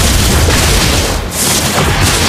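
A turret being destroyed in a multiplayer battle video game, heard as a loud, sustained boom with a dense rumbling roar that fills the whole moment, briefly dipping before swelling again.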